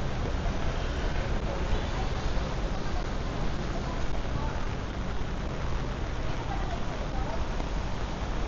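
Steady rain falls during a walk through a park in uptown BGC, a dense, constant hiss with no pauses, and some faint voices underneath.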